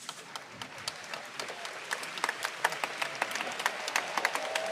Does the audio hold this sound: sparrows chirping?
no